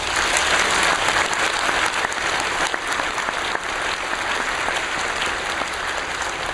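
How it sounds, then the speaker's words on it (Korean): A church congregation applauds to welcome a visiting pastor, a full, steady round of clapping that carries on unbroken and moderately loud throughout. "귀한 자리 오신 목사님께 우리 감사의 박수로 환영해 주시겠습니다."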